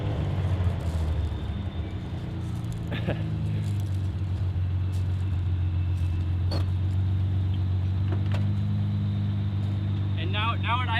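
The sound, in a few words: 280Z engine idling with Fujitsubo-style muffler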